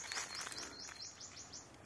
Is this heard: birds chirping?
yes